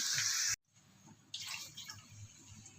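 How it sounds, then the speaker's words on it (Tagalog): Water rushes in a loud stream, cuts off briefly, then resumes pouring with a splashy, bubbling hiss into a cooking pot nearby. "lalagyan na natin siya ng tubig"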